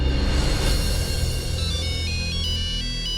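A mobile phone ringtone plays loud and close, a repeating electronic melody ringing continuously for a few seconds with a busy background underneath and no speech.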